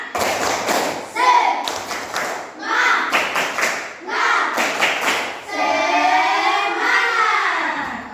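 A group doing the rhythmic 'tepuk semangat' clapping icebreaker in a classroom session, with bursts of patterned hand claps alternating with chanted voices and cheering, ending in a longer stretch of lively group shouting.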